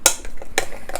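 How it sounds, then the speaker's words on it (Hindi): Ingredients are stirred in a bowl for a Thanksgiving turkey recipe, with three or four sharp clinking knocks of a utensil against the bowl. "इन सारी चीज़ों को हम लोग मिक्स कर लेंगे।"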